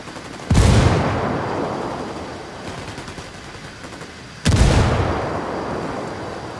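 Two heavy grenade blasts in the video game Ghost Recon Wildlands, each a sudden loud boom followed by a long rumbling decay, with faint scattered gunfire in between.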